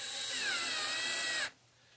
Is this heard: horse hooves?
no